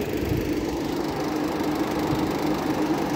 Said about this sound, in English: I honestly like how the compressor sounds